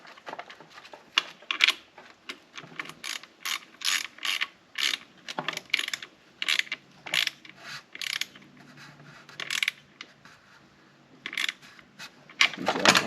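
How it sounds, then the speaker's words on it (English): Ratchet wrench tightening a small cable fitting on an engine being readied for its first start, a long run of crisp, close clicking strokes in uneven bursts with short pauses between them. "And then I got to tighten the little cable down here."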